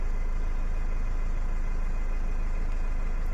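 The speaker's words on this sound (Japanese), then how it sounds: "はい、エンジンかけました。" A car engine idles steadily just after being started, a constant low hum with no talk, while a camping trailer is hitched for charging.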